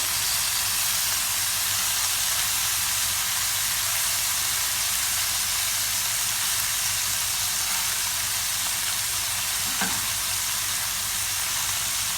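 Large pieces of carrot and cubed tomato sizzle while being sautéed in a pot for a Saudi kabsa with lamb: a steady, loud, close frying hiss throughout with no speech.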